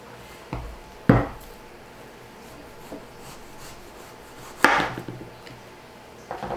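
A knife cuts through firm butternut squash with a few sharp chops against a cutting board, separated by quiet pauses.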